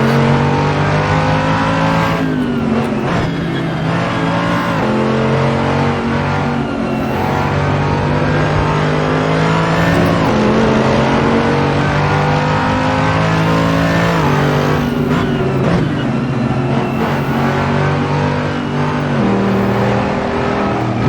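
Mercedes-AMG GT3 race car in a video game at Mugello, its engine droning loudly and continuously for the whole stretch, pitch climbing and dropping through repeated gear shifts with brief tyre noise in the corners.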